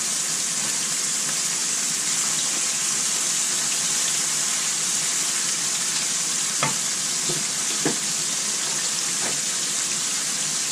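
Beef cube steak seasoned with salt and pepper fries in a pan with a steady, even sizzle throughout. A few faint clicks and taps from the cookware sound partway through.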